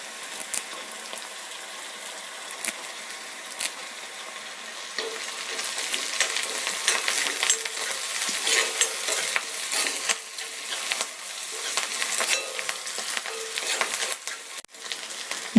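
Pirandai with ajwain, black pepper and curry leaves sautés in a pan, a soft steady sizzle with scattered ticks and scrapes of stirring that grows somewhat louder midway.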